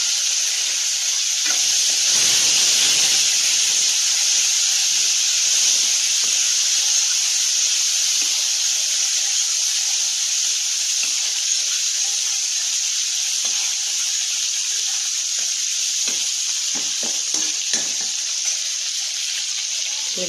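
Chopped tomatoes go into a pan of fried onions, setting off a loud, steady hiss of sizzling that runs throughout, with a few faint clicks and knocks near the end.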